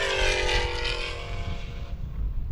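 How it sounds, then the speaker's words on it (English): A 1979 Camaro drag car, car 313, roars down a straight road course during shootout races in Nebraska, its loud engine note sweeping past and fading away against a rumbling background. "Wow, you can really hear this car. Oh, this is that 79 Camaro"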